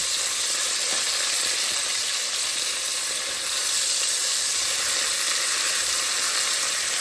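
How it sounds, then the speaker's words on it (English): Meat browning in a hot pan gives a loud, steady sizzle and crackle, a continuous dense frying hiss that fills the whole stretch with no voices. "And I'm just browning it, I'm not finishing it."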